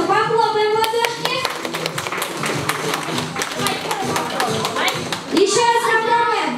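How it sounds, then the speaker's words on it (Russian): A group claps hands at a banquet, bursts of sharp slaps running steadily under a child's speech and other voices, swelling louder near the end. "давайте все равно похлопаем в ладошки"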